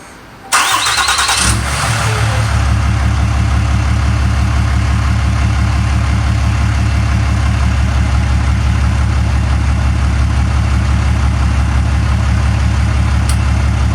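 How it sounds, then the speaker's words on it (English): A pickup truck engine cranks and catches with a sharp start, then settles into a loud, steady idle that runs close by with an even rumbling pulse and no talking. "I'm going to start the truck up"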